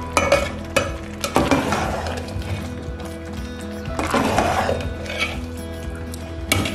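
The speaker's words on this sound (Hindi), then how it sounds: "इसे इसी तरह चम्मच हिलाते जाएं ताकि जो हमारा गाजर का हलवा है वो नीचे से लगे ना" A spoon stirs thick carrot halwa (gajar ka halwa) in a pot, making continuous close scraping and squelching strokes with a few sharper knocks against the pot.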